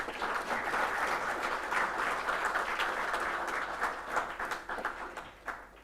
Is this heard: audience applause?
yes